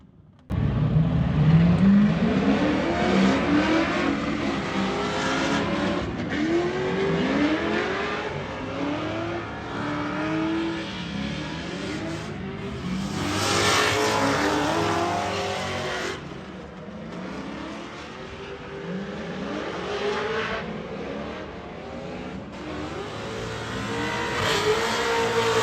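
A race car running on track at an autofest event, its engine roaring continuously and loud for the whole stretch, with rising and falling revs as it accelerates and lifts through corners.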